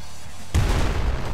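A pistol fires in the video game Nuclear Throne, a sudden loud burst that leaves a dense, noisy rumble of game effects continuing after it, with no voices.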